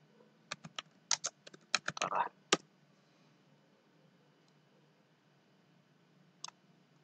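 Keystrokes on a computer keyboard entering text into a form, a quick run of separate clicks over about two seconds, then quiet with one last tap near the end.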